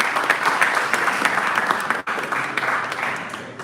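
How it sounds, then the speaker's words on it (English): An audience at a convention evening session applauds for the electoral committee president, a sustained crowd of many hands clapping at a fairly even level with a brief cut midway. "Please, a round of applause for him."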